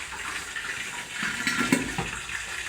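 Chillies dropped into hot cooking oil sizzle and spit with a steady hiss, rising briefly in a few louder crackling bursts, close up with no talking.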